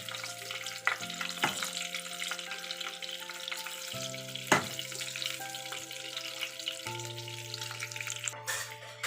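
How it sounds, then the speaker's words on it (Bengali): Pointed gourd (potol) frying in hot oil in a pan, a constant soft crackling sizzle with occasional stirring clatters, fairly quiet and close, and nobody speaking. "পটলগুলোকে কিন্তু লাল করে দুটো দিক ভালো করে ভেজে নিতে হবে।"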